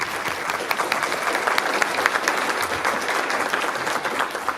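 An audience at a talk on inequities in small schools gives Dr. Gregory Peters a round of applause, a continuous, evenly dense patter of many hands clapping at moderate loudness throughout.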